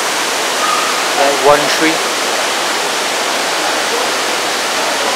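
A steady indoor waterfall pours in the rainforest section of the 1 Utama shopping mall, a dense, even rush of water that fills the whole space, with a brief voice speaking over it.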